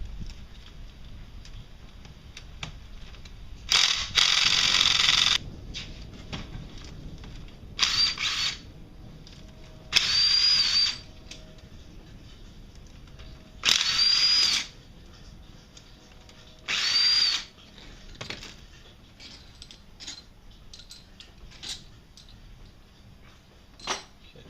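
A power tool removes the cylinder head bolts on a Can-Am Outlander ATV engine. Loud whirring bursts, each a second or two long, repeat about six times with quiet pauses between.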